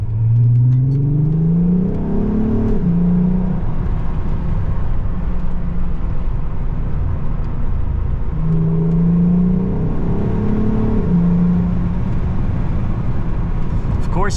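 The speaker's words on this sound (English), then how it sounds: "but you also get more exhaust noise for sure" A VW Golf R32 with a Scorpion exhaust revving from inside the car with a window cracked open, two rising-and-falling engine swells over a steady droning rumble and wind noise.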